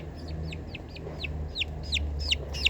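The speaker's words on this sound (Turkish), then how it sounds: "ben her şey yapan bu fedakar civcivimizin adı Pamuk" A rapid series of high, thin chick peeps, repeated steadily and growing a little louder, over a low background hum.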